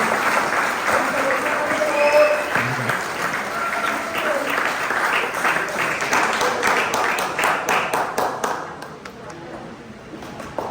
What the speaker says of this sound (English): come on guys, let's cheer him up.